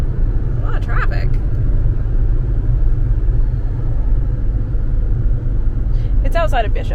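Inside a car driving on a highway near Bishop, a steady low road rumble and engine drone fills the cabin, with brief voices speaking near the start and end.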